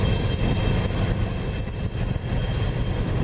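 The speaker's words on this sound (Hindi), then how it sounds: "नेवी का हेलीकॉप्टर है" A navy helicopter flying over Kochi for a flower-shower salute: a steady, loud, rumbling rotor and engine drone with no pauses and no voices.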